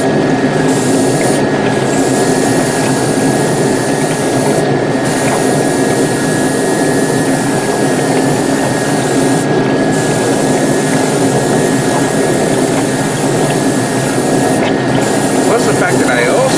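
Air compressor driving a spray gun to paint Titanium Blue, a steady loud hiss running the whole time with a constant mechanical hum beneath, broken by several brief pauses in the spray.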